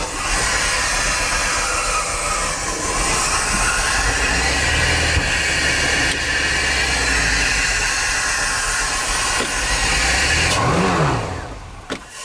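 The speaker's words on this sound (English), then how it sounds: "let's just see if the boat fires up" An outboard boat engine being started and run while winterizing, with no water hooked up at the transom: a loud, steady mechanical drone with low rumble throughout, rising slightly before dropping off at the end.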